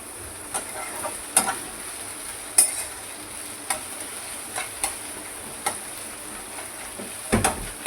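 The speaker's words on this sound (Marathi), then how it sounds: "माझा गॅस फास्ट करून आणि परतून घेऊया भाजी" Vegetables stir-fried in a pan over a high gas flame, with a steady low sizzle broken by scattered sharp scraping clicks from the spatula, close and without talk.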